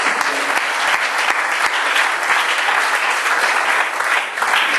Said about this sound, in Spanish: Ofrenda de aplausos.